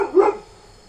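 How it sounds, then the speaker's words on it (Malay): A village dog gives a single short bark, close and loud, which quickly dies away into quiet. "Saya tak tahu kenapa di anjing tu tiba bunyi ni."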